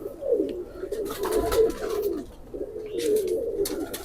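Pigeons coo steadily and close at a pigeon show of golden, teddy and kamagar breeds, soft low rolling calls repeating in overlapping phrases with brief pauses.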